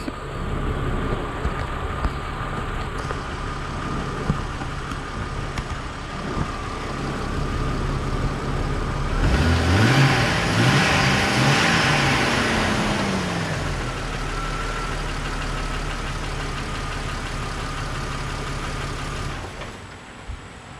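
A Jeep engine cranks for a few seconds, catches and rises to a loud rumble, then settles into a steady idle that runs on alone.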